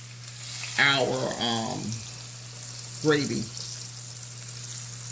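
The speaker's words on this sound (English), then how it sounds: "So now we have those frying." Floured pork chops fry in a pan on a gas stove with a steady sizzle, and someone speaks briefly over the cooking.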